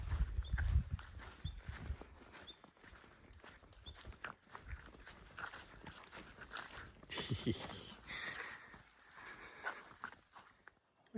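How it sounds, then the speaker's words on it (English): A dog is walked along a bush track in outback Northern Territory country, with irregular footsteps and scuffing on dirt and brush, close and moderately loud, with brief rustles and no talking. "Walking my weird dog."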